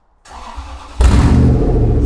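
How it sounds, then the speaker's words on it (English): A Toyota Land Cruiser engine, long abandoned and with a suspect cylinder, cranks briefly after a quiet start and then catches, bursting into a loud, rough, continuous running roar close by. "let's just get this engine going again"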